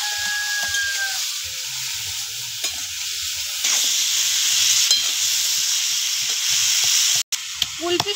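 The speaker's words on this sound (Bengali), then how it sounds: "এবার সবজিটা ভালো করে কি কষিয়ে নিবা।" Vegetables frying in a pan with salt and turmeric for a papaya and pomfret fish curry, a steady close sizzle and hiss with stirring scrapes throughout, brief clatters near the end, no talk.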